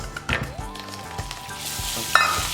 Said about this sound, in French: maintenant que j'ai un caramel avec une bonne couleur, je vais venir ajouter mon beurre